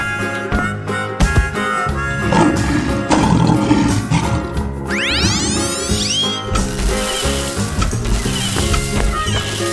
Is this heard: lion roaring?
yes